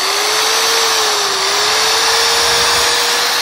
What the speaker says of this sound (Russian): Включаете и пошел точить.